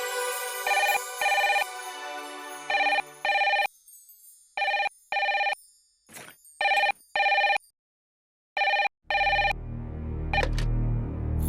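A telephone bell rings in repeated double bursts, fairly loud and close, with short silent gaps between rings, before a low rumbling room noise and movement take over at the end.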